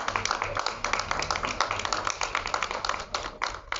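A small audience claps at the opening of a Beauty Success shop in Mauritius, giving a quick, crisp patter of separate hand claps that stays fairly close and steady.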